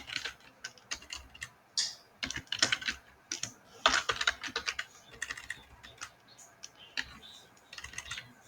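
Quick bursts of typing on a computer keyboard while entering commands into a programming console, irregular clusters of sharp close clicks with brief pauses, fairly quiet overall.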